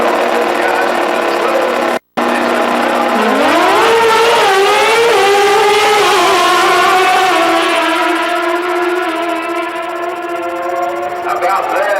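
Super Gas drag race cars launch and accelerate down the strip, loud engine roar climbing steadily in pitch through the gears and sustained close by, with crowd and announcer talk mixed underneath.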